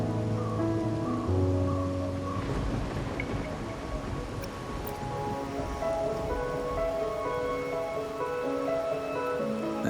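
Steady rain falls throughout a scene in the video game Wuthering Waves, a continuous hiss layered under music with sustained tones.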